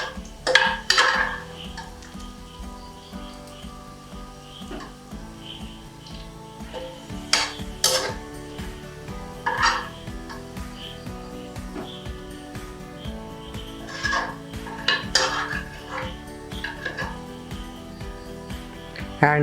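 Crispy golden fried onions for mutton biryani are scooped and transferred onto a plate, with scattered metallic clinks and scrapes of a utensil against a pan and dish, moderately close, amid faint kitchen background sound.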